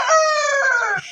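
A native Bangladeshi rooster crows once, close and loud, a single sustained harmonic call that breaks off near the end.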